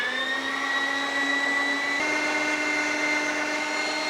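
An electric sausage stuffer machine runs while pork mince is pushed through it, giving a steady, loud motor whine with a dense harmonic hum that holds evenly throughout.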